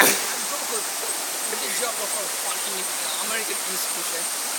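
Vazhachal waterfall roars in a steady, dense rush of falling water, loud and continuous throughout.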